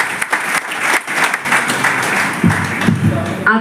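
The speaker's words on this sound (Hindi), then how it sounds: "तो जोरदार तालियां" Loud applause from a crowd at a BJP election rally in Patel Nagar, New Delhi, a dense steady patter of many hands that runs through the whole stretch and swells near the end.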